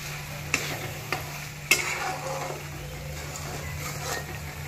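Masala with a spoonful of curd being sautéed and stirred in a pan for dhaba-style shev bhaji: a low steady sizzle with a few sharp scraping clicks of the spoon against the pan, no talking.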